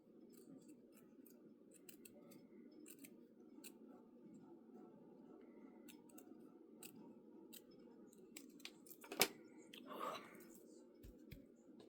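Scissors snip fabric for fussy cutting in a quiet quilting setting, with small, soft, irregular clicks and cuts close by, faint overall with a slightly sharper snip near the end.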